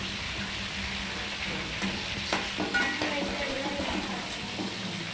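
Green chillies go into a hot pan of curry, giving a steady close sizzle with a few stirring scrapes and clinks.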